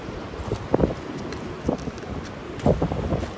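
Wind buffeting a microphone on the shore at Cannon Beach, Oregon, a low rumbling gusty roar with several stronger bursts, close and unbroken, with no voices.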